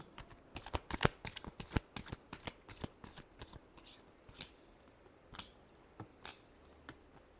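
Tarot cards are shuffled close by, a rapid run of crisp riffling slaps and flicks in uneven bursts, loud against a quiet room.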